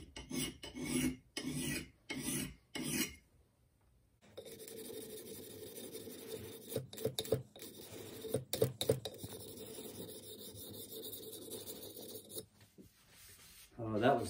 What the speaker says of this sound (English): So I tend to save them just for draw filing.